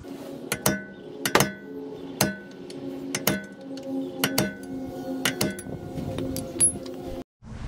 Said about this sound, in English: with my center punch, I'm going to stake it so it doesn't loosen up